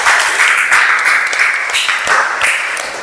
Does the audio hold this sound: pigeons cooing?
no